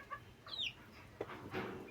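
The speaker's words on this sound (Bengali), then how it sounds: "এই যে আমার টার্কি মুরগি" A turkey hen on a small home farm gives a few soft clucks and a brief higher call, faint and isolated against a quiet background.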